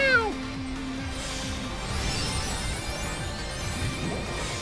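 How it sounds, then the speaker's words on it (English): A short cartoonish meow-like tone in Final Fantasy XIV: Dawntrail opens, followed by a crash and busy electronic game sounds with repeating chirpy effects. "Oh, is this a meow?"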